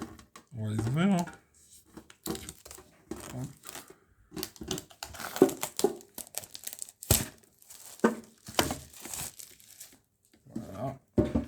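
Foil Yu-Gi-Oh booster packs from a 2022 tin are torn and crinkled open, the sharp rustling and ripping bursts coming close and intermittent between stretches of French talk.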